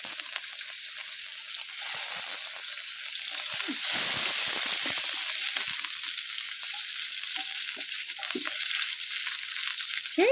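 Onions, cumin and bay leaf sizzle and crackle steadily in oil in a kadai, with occasional stirring scrapes, close and fairly loud throughout, no voices.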